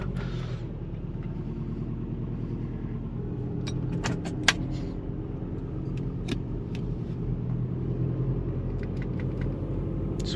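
A car engine catches and settles into a steady, fairly quiet idle with a low rumble, broken by a few sharp clicks and clatters nearby. No one speaks.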